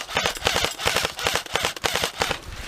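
Airsoft guns fire bursts of cover fire during outdoor gameplay: rapid, sharp cracking shots in quick clusters, close and loud, repeating with short pauses across the whole stretch.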